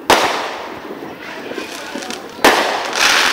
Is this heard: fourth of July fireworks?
yes